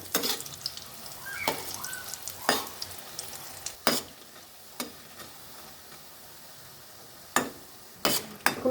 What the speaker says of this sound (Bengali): অপর পিঠ উল্টিয়ে দেব।